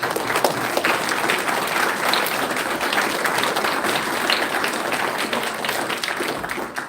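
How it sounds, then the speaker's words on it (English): A full room at a football club's awards night claps for a winning girls' team, producing dense, sustained applause that stays steady and loud from start to finish. "I think we should recognise that with another round of applause for those girls"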